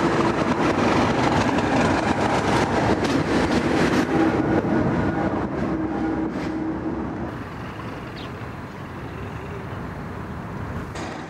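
A diesel locomotive rumbles steadily close by as it runs around its train in western Scotland in 1996, a continuous heavy engine drone with rolling clatter that gradually eases and settles to a lower hum.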